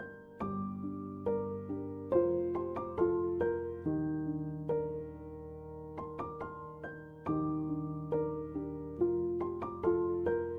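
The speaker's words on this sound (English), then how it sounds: "So the Lounge Piano on its default preset is sounding like this." A Lounge Piano Kontakt instrument on its default preset plays a MIDI pattern: soft sustained chords with a repeating melodic figure of plucked notes on top, moderately quiet and alone.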